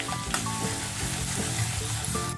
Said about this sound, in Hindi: लहसुन भी हम लाल करके भून लेते हैं अच्छी तरह।